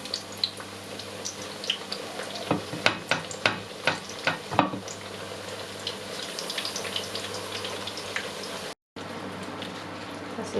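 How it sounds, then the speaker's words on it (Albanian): Eggplant slices fry in hot oil in a pan with a steady sizzle, while a burst of sharp utensil clicks and scrapes against the pan marks the middle of the stretch. No one speaks, and the sizzle carries on after a brief cut to silence. "Kam vendosur tiganin me vaj në zjarr dhe do fillojmë dhe do skuqim patlıxhanet."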